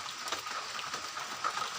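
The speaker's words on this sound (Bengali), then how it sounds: "এখন বৃষ্টি আর ভালো করে হচ্ছে" Rain falls steadily on a farm field crossed by drainage channels, a soft, even hiss with scattered faint drop patters, quiet and distant-sounding, with no voices over it.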